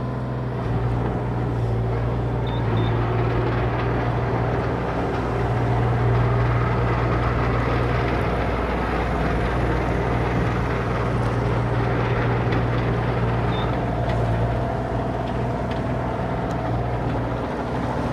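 A 2024 Bobcat E35R2 mini excavator tracking in two-speed and swinging its long arm, with a steady, loud diesel drone and a constant low hum that swells slightly as it works.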